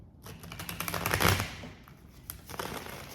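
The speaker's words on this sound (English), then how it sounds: "We are going to put all of this back and shuffle it." A tarot deck is shuffled by hand, giving a quick burst of crisp papery riffling and tapping that peaks near the middle and then trails off into softer card handling, with no talk.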